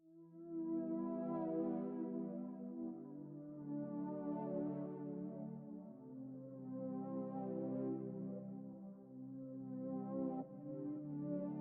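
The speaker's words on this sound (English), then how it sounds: "I've gone with this pretty pulse pad from Analog Lab 5" Soft ambient synth pulse pad from Analog Lab 5 layered with sustained piano chords, gently swelling and fading in slow waves, steady and mellow with no voices.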